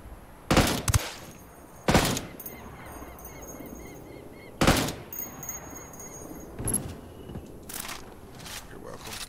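Gunfire in the video game Ghost Recon Wildlands, heard as several sharp, loud shots or short bursts spaced a few seconds apart over a steady background of game ambience.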